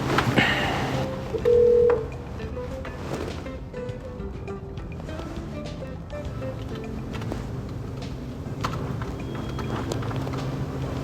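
A telephone is dialed, with a short tone burst followed by faint tones and line noise over a low hum, and no one answers the ringing.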